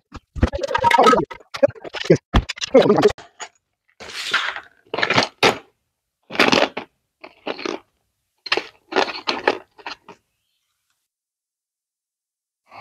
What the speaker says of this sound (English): We'll cut them with a knife.